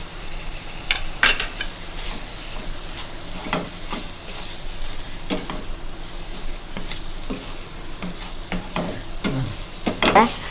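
Ground onion paste and masala being stirred and fried in a pan for chicken chukka, a steady soft sizzle broken by scraping spoon strokes and clinks against the metal.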